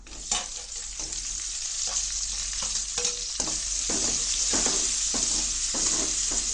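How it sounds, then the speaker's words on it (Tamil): Mustard seeds, urad dal, onion and dried red chillies fry in hot oil for a hotel-style tomato chutney, a steady close sizzle broken by repeated sharp clicks and spatters as the pan is stirred, with no voices. "கடுகு உளுத்தம் பருப்பு லைட்டாக பொறிக்கிட்டோம் இப்போ வெங்காயம் வரமிளகா"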